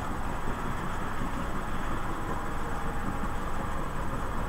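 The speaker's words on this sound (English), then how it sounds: "Boy Bush, can I set more trains off? You've got 3 going" Model railway trains running around a layout, giving a steady, continuous rolling rumble and rail noise with a faint high hiss, close and unbroken throughout.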